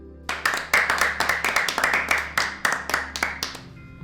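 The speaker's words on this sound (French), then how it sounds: "Vous pouvez les applaudir." A small audience applauds the principal investors at a building presentation, with dense, crisp clapping that starts abruptly, holds steady and fairly loud for a few seconds, then stops.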